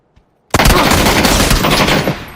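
Loud, close automatic gunfire erupts in a shooter video game after a brief silence, a rapid continuous burst that holds steady for nearly two seconds.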